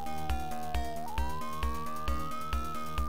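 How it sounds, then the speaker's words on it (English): A police car siren in the video game Police Quest III, a steady electronic tone slowly rising in pitch, heard alongside rhythmic thumping game music. "We're code 3. We've got lights and sirens going."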